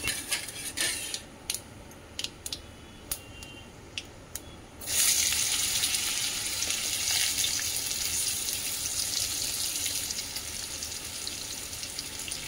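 Whole spices tempered into hot oil over cooked dal burst into a loud, sustained sizzle partway through, after a run of sharp utensil clinks and taps against the pan.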